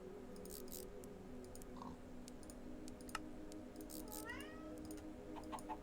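A cat meows faintly a couple of times in a quiet room, a short rising call and a later wavering one, with soft keyboard clicks and taps around it.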